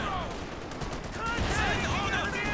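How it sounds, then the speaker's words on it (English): Machine gun fire from a captured .50 cal in Company of Heroes 2 crackles steadily under a busy wartime game soundscape, with a voice commentating over the dense, continuous battle noise. "It's a stolen 50 cal there, but struggling to suppress"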